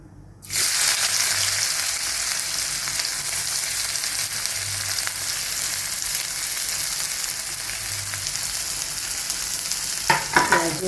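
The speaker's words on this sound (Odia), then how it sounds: "ଏବେ ତେଲ ଗରମ ହେଇଛି ଅଣ୍ଡା ପକେଇବେ ସରି ଆମେ ଏଇନେ ପିଆଜ ପକେଇଦେବା" Sliced onions drop into hot oil in a pan for an Odia-style egg curry, setting off a loud, steady sizzle that carries on for about ten seconds, with a few clinks of stirring near the end.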